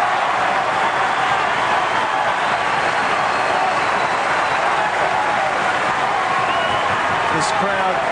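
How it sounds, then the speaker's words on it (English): Crowd applause at a tennis match at the 2008 Australian Open, a dense, sustained roar of clapping from a large stadium audience, under a commentator's voice. "So listen to the applause"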